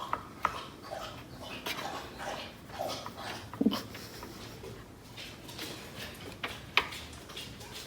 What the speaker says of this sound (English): That is a dog in the background.